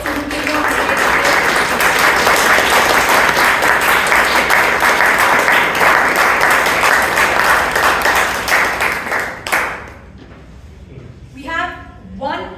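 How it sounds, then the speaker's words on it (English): A large audience at a Toastmasters club meeting in Bangalore gives a big round of applause for everyone who appeared on stage, a loud, dense, sustained clapping that cuts off sharply near the end before a voice speaks. "Can we have a huge round of applause for every single person who came on stage today?"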